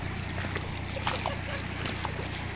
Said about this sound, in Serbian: idem, kroz vodu.